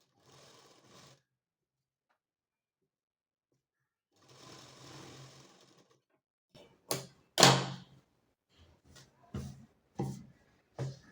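Sewing machine stitching tucks on a garment back, running in two steady whirring bursts separated by a pause, followed by several sharp knocks and clacks as the fabric is handled.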